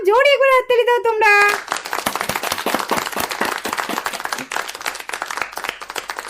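A group of children claps in a quick, uneven patter of close handclaps after a short rising tone, with voices talking over them throughout.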